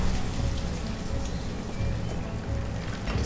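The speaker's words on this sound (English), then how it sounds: "It is raining as heavily in this game as it has been raining in my hometown" Heavy rain pouring in the village-building game Banished, a thick, constant hiss of countless drops striking surfaces, steady and unbroken with no voices.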